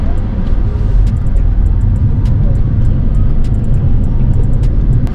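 A Toyota Prius Plug-in Hybrid accelerates in sport mode, giving a steady loud drone of road and motor noise from inside the cabin with faint ticking clicks, no voices over it.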